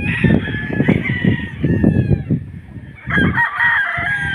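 Chickens cluck and squawk at a market where fowl are being sold, and a rooster crows loudly nearby in two long calls separated by a short gap.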